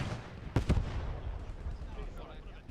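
Gunfire and explosions from a Post Scriptum World War II battle around a trench line with an MG42 and a Sherman Firefly tank: two sharp close blasts early on, then a dense rumbling of distant fire throughout.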